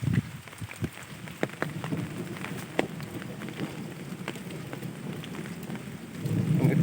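Steady rain falls on a village, a close, even patter of drops with scattered sharper splashes on nearby surfaces and a low rumble underneath.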